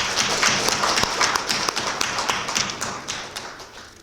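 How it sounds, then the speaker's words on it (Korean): Applause at a council meeting of the national association of metropolitan and provincial council chairs: a dense spell of clapping from a roomful of people that starts strong and slowly fades over a few seconds. "시장님한테 박수 한번 좀 드려야 됩니다."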